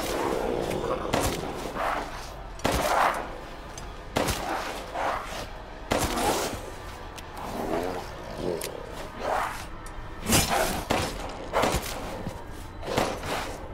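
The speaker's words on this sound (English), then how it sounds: "having the gun become less accurate after every shot" Gunfire in Resident Evil Village, a gun that loses accuracy with each shot: sharp, loud shots fired at irregular intervals over about fourteen seconds, mixed with thuds and heavy movement, with no speech.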